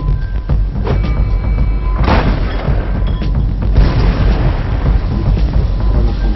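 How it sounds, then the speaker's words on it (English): Heavy, rumbling booms of artillery shells exploding beside a target, a couple of sharp blasts rolling into a continuous low roar, loud and without any talking. "The shells explode beside the target, spraying it with shrapnel."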